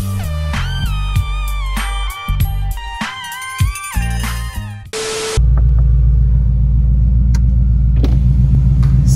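Ford Mustang engine cutting in after a burst of music, then idling with a deep, loud, steady rumble close up, a few light knocks on top and no talking.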